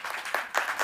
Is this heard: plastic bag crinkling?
no